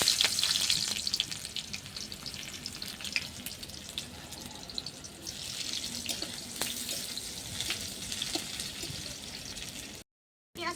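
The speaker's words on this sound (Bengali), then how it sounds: "পেঁয়াজটাও ভেজে উঠিয়ে নেবো" Onions frying in oil in a pan for spinach chop, giving a steady, close sizzling hiss with faint stirring clinks throughout and no talking, cut off briefly near the end.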